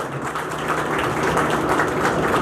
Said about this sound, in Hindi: भाई जोरदार ताली बजाओ।